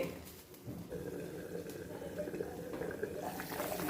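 Fish curry (chepala pulusu) simmering in a covered pot on a stove, giving a steady, continuous bubbling hiss that stays fairly quiet and even throughout, with no voices.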